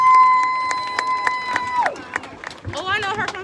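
A crowd at a community gathering against racial injustice and gun violence cheers and claps over a sustained tone, with whoops and scattered shouts rising near the end.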